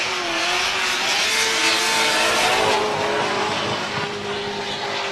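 Supercharged V8 drift car at a 2014 Formula Drift round in Miami: a continuous loud engine roar with a rising tone, mixed with tire hiss and crowd-like wash, heard from a distance.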